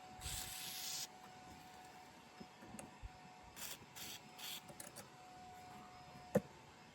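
Penetrating oil sprayed from an aerosol can onto a rusted lock during a Rieju RS2 Matrix Pro 125cc motorcycle restoration: a quiet opening hiss lasting about a second, then several short spray bursts and light handling clicks.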